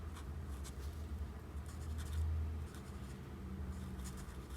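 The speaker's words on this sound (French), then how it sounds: "Et on colorie tout le reste." Marker coloring on paper while shading a Clash Royale character drawing, a soft continuous scratchy rubbing with repeated strokes over a low steady background hum.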